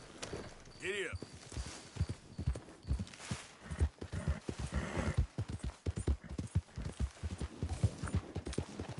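Horse hooves clip-clop rhythmically in Red Dead Redemption, a steady run of close hoofbeats with an occasional whinny and some talk mixed in.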